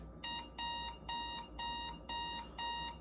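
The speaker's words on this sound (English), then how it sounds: "Maybe you need an alarm clock that might sound like this." Alarm clock ringing in six steady bursts of bright electronic beeping, each about a third of a second long with short gaps, loud and alone over a faint low hum.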